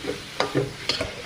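Spices, chopped tomato and green peas are stirred and fried in a pan, with a few quick scraping stirs over a low, steady sizzle.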